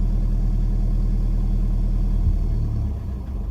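An off-road vehicle's engine held on the gas in low range on a steep track gives a steady, loud low rumble that eases slightly near the end.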